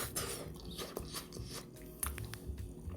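Brown rice pasta being eaten, with close, soft chewing and a few sharper bites and crunchy smacks in an uneven rhythm, no talking.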